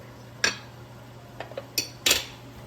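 A few sharp clinks of a metal whisk against a pan while butter is whisked into maple sauce, scattered taps close up over a steady low hum.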